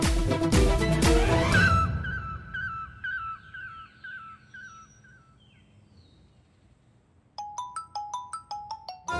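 A phone ringtone plays in a Hindi TV drama scene, a melodic electronic tune of repeating chirpy notes that fades out after loud music at the start, then returns as a sharper rhythmic pattern of short beeping notes.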